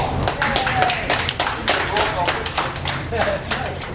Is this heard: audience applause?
yes